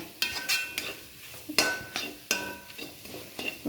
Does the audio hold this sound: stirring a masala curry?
yes